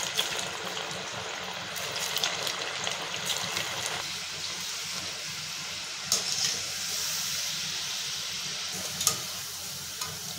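Methi chaat pieces, cut from rolled fenugreek dough, frying in hot oil give a steady, loud bubbling sizzle and hiss throughout, with occasional faint stirring clinks.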